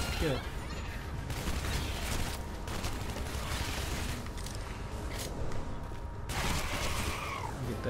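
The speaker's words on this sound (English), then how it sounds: "How about a firecracker in that ass?" Shadow Warrior firecracker explosions: a continuous, loud barrage of crackling bursts and booms that barely lets up, with combat noise mixed in.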